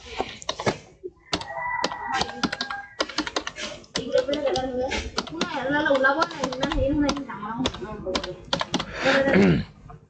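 Rapid bursts of keystrokes as an email address is typed on a computer keyboard, close and clear, with a voice speaking over much of the tapping.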